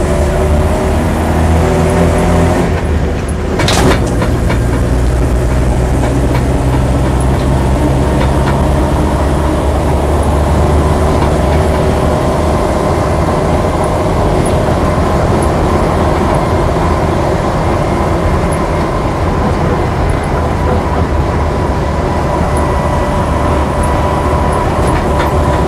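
Land Rover Series 2A 88-inch hardtop on the move, its engine and gearbox droning loud and steady from inside the cab with a constant rumble and whine, interrupted early by a brief clunk of a gear change.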